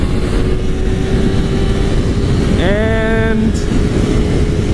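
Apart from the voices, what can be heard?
Kawasaki Ninja 300 motorcycle at high speed with wind noise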